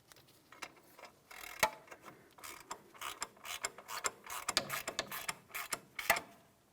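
Hand ratchet tightening the ball joint mounting nut on the front upper control arm of a 2007–2014 GMC Sierra 2500 HD, a run of quick clicking strokes, faint and close.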